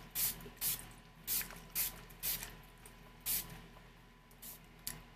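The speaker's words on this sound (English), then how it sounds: "this is the Chill Setting Spray by Urban Decay" Urban Decay Chill setting spray is misted onto a face in a series of short, soft hissing spritzes, about eight bursts in uneven rhythm, close and fairly quiet with no talk.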